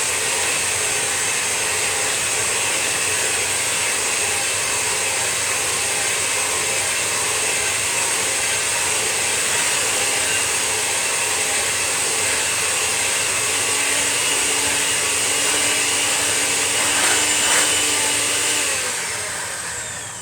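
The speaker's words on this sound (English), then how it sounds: "we're going to use this egg beater, this mixer, to combine these ingredients." An electric hand mixer beats cheesecake brownie batter in a continuous loud, steady whir that runs for about twenty seconds before easing off at the end, with no voices.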